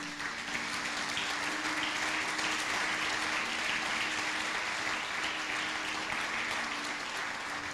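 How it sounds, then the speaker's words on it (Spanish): A church congregation breaks into steady, sustained applause at a sermon, a dense wash of clapping hands that fills the whole stretch with no voices over it. "Aplaudo si lo creen esta noche."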